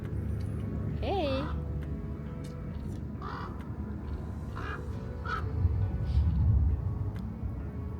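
Crow-like birds give several harsh caws and one rising whistled call in Death Valley, California, moderately close, with voices speaking underneath and low background rumble.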